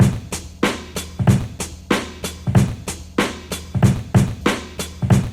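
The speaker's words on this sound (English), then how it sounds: "So I picked up a little break beat," A hip hop drum break beat loops with punchy kicks and crisp snares in a steady, swung groove, played loud and close with no other sounds.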